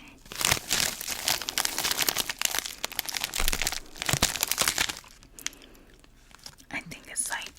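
Plastic wrapper of a cocoa-filled wafer cookie crinkled and torn open close to the microphone, bursts of sharp crackling that pause briefly and resume, with soft whispered talk in between.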